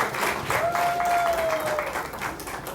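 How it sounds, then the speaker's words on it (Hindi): An audience at a Hindi film audio release for Hindutva breaks into applause, a dense burst of clapping under a sustained tone, with a voice briefly audible. "Zordar तालियां हो जाएं, none other than Ashish Sharma"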